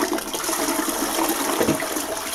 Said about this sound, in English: It's a half flush. Maybe a wee bit too short still.